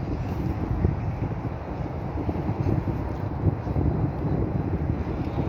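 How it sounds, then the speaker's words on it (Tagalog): Steady wind in a Walmart parking area in Calgary, Alberta buffets the microphone with a low, rough roar that gusts slightly throughout, fairly loud and constant, no speech. "Masyadong mahangin dito ngayon."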